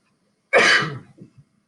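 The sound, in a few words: sneeze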